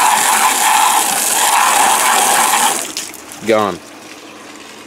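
A hose sprays water in a steady loud rush onto a muddy ATV, then cuts off with a short rising squeak; a voice speaks briefly near the end.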